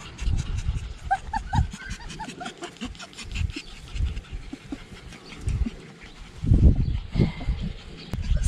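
A dog on a farm pants and huffs nearby in short bursts, with faint bird chirps in the background and a louder rustle near the end.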